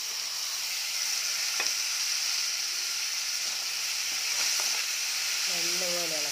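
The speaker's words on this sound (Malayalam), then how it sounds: "പൊടികളൊക്കെ ഇട്ടതിന് ശേഷം നമുക്ക് വേവിച്ച് വെച്ചിരിക്കുന്ന കടല ഇട്ട് കൊടുക്കും." Cooked sprouted chickpeas hitting a hot pan of spiced oil, a loud steady frying hiss with a few clacks of a spoon and a faint sound near the end.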